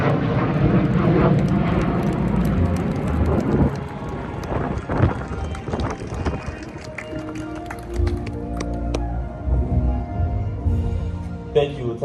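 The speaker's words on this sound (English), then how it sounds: "Turning your eyes skyward, you will see a pair of F-16s from the 113th Aerospace Control Alert Detachment executing that solemn" A pair of F-16 fighter jets flies overhead at a 9/11 anniversary ceremony at Andrews Air Force Base, a broad loud roar of jet engines swelling and fading under crowd noise and voices.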